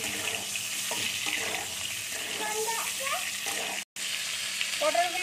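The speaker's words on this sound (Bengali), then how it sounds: "নুন দিয়ে একটু পটলটা ভেজে নিচ্ছি।" Pointed gourd (potol) fries with salt in a pan, a close, steady sizzle with watery crackle, while a person talks intermittently over it.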